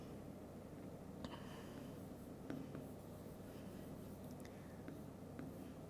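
Pen or pencil writing on paper during a Class 7 maths lesson on simple equations, faint scratchy strokes with a few short ticks over steady low background hum, no talking.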